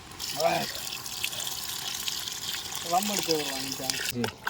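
Water runs and splashes steadily into a cooking pot for jackfruit biryani, a continuous liquid gush with brief voices and clatter near the start and end.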